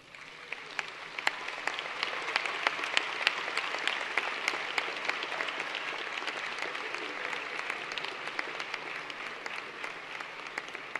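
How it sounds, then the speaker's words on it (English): Graduating high school seniors standing and applauding their parents, family and friends at a 2015 Colerain High School graduation ceremony, producing dense, sustained applause from a large crowd that holds steady for about eleven seconds. "stand and applaud your parents, family, and friends for their support"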